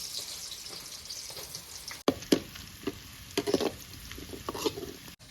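Small shallots frying in hot oil for the tempering of a fish curry: a steady soft sizzle with bursts of crackling and stirring scrapes, close by, with no talking.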